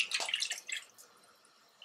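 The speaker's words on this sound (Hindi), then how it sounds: "तो सिंपली अब मैं यहाँ पर जो है इसमें ऐड करूँगी पानी," Water poured into a pot of chicken dal curry, a brief soft splash and trickle that quickly fades to near silence, fairly close and quiet.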